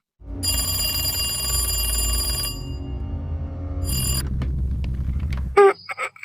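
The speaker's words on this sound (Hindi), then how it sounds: "फोन उठाओ भी, डरो मत।" A loud electronic phone ringtone plays steadily, changes tone partway, then breaks off into a few short chirps near the end, with no voices.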